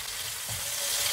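Onions frying in hot oil in a pan, a steady close sizzle that runs unbroken for about a second with no voices.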